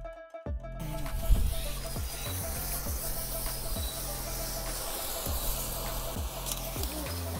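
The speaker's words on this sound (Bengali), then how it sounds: "চলো এবার এই দেশলাই কাঠের উপর লেগ পিসটাকে ফ্রাই করা যাক" A chicken leg piece frying over burning matchsticks, a steady close hiss and crackle running throughout after a brief quiet start.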